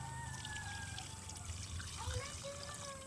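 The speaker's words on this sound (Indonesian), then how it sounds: "1 buah polybag ini biasanya saya siram setengah sampai 1 liter" Water poured from about half to one liter onto a young melon plant growing in a polybag in a home yard, a steady faint trickle with birdsong and background noise around it.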